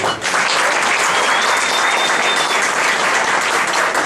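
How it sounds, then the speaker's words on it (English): Sustained applause from a large audience, dense clapping that stays loud and steady throughout without a break. "Would you give him a round of applause?"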